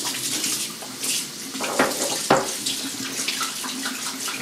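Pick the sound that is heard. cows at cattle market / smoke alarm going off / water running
water running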